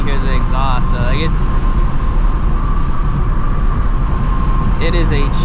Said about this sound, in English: you hear more tire and wind noise than you hear the exhaust